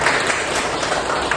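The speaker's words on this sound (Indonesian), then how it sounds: "beri aplaus buat teman-temannya" Applause from a classroom audience, a steady dense patter of many hands clapping close by, filling the whole short moment without talk.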